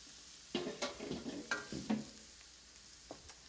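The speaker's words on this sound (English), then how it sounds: "you're going to let these saute until the turnips start to get nice and soft" Turnips and leeks stirred and sautéing in oil in a pan for a leek and turnip soup, giving soft sizzling with a few stirring scrapes and clinks, fairly quiet and close.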